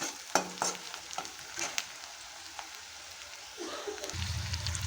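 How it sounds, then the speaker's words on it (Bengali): Onions fry in oil for biryani, a bright crackling sizzle punctuated by sharp clinks and scrapes of stirring, then a louder, fuller sizzle builds toward the end. "এখন আমি পেঁয়াজটাকে ভেজে নিচ্ছি।"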